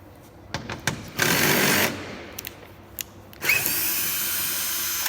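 A compact Ryobi power tool backs out 10 and 12 mm bolts on a Nissan R35 GT-R during a transmission and diff service, with two loud sustained whirring bursts set between short clicks and rattles in a quiet garage.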